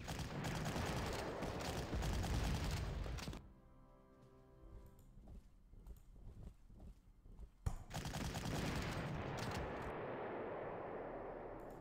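Rapid machine-gun and cannon fire from attacking units in the WWII strategy game Panzer Corps, loud dense bursts, then a quieter stretch of sparse thuds and a ringing tone, before heavy firing resumes.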